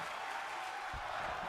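A virtual arena crowd in the WWE 2K24 wrestling game roars in a steady, broad wash of cheering and clapping, constant and fairly loud, with a low thump partway through.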